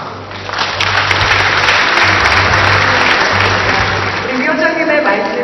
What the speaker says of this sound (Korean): 큰 환영의 박수로 부탁드리겠습니다